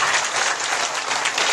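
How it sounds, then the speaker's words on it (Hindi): A live audience at a Shrimad Bhagwat Katha religious discourse breaks into loud, dense applause, many hands clapping steadily and evenly throughout with no pause. "एक बार ताली बजाओ जोर से"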